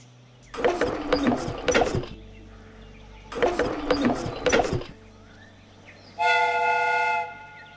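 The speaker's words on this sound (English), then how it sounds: "The steam whistle is ready to be used." A replica steam train's whistle in a Sherlock Holmes video game sounds as one loud, sustained, steady tone lasting about a second near the end, following two bursts of clattering mechanical noise.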